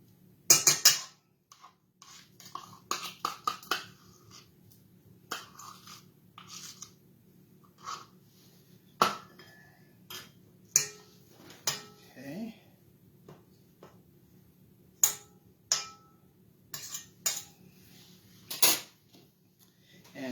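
A spoon clinks and scrapes against a mixing bowl while a cup of cream cheese goes into pistachio bread batter, a string of sharp close taps and knocks over a low steady hum.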